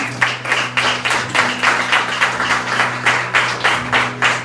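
A church congregation applauds the Lord during a sermon on baptism and the Holy Spirit, with steady rhythmic clapping in loud regular pulses throughout, and no voices over it.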